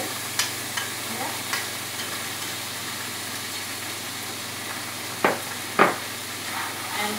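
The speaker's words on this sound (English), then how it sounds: "Fry the onion, soften the onion well" Garlic, ginger paste and onion frying in a wok give a faint, steady sizzle, with a few sharp spatula knocks and scrapes standing out near the end.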